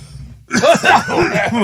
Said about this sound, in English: I'm going to cough because I choked on this.